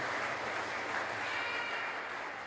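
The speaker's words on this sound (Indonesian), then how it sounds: "Tepuk tangan, oke." A church congregation claps at a Sunday morning service, an even, continuous patter of many hands, soft and somewhat distant, with no voices standing out.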